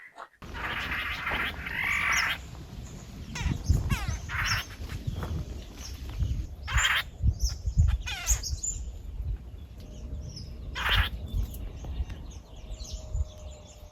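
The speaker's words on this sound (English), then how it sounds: "I do like the sound of the birds" Birds sing and chirp outdoors in the morning in a series of scattered, moderately close calls, mixed with croaking and low rumbling background sounds and no speech.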